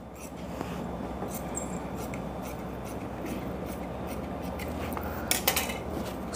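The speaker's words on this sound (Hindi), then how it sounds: "इसको मैं काट के यहाँ से बराबर करूँगा" Scissors cut through salwar fabric being trimmed even on a tailoring table, a continuous close rasping and slicing with a few sharper metallic clicks near the end, no talking.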